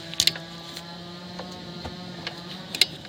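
A torque wrench clicks while the belt tensioner bolt on a Mercedes R129 500SL M119 V8 is given its final tightening. A few sharp metallic clicks sound close up over a steady mechanical hum.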